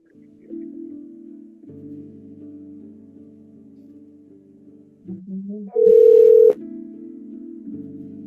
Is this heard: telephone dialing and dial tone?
yes